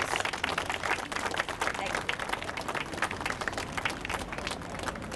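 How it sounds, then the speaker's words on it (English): Audience applause at a community dedication ceremony for a sound barrier wall, dense and continuous crackling claps filling the space at steady loudness throughout. "Give yourselves a round of applause"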